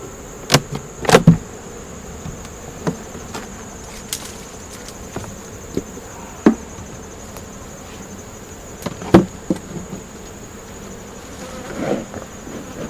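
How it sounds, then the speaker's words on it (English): A low, continuous buzz of many honeybees hums close by at a hive, broken by sharp knocks and clicks scattered through, with no talking. "Pretty good amount of bees"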